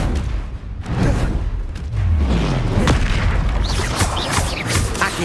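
Confringo spell explosions in the game Hogwarts Legacy, heavy booming blasts that roll and overlap continuously with rumbling low impacts and crackling debris, loud and close.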